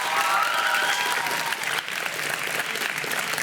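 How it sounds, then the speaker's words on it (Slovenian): An audience at a school quiz show, with two teams competing, bursts into dense, sustained applause. The clapping is loud and steady and eases slightly toward the end. "En velik aplavz obe ekipi."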